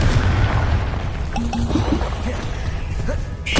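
Booming spell blasts from Hogwarts Legacy gameplay: a dense, loud rumbling explosion at the start, then scattered pops and bursts, ending with a sharp bright crack; game effects fill the whole stretch.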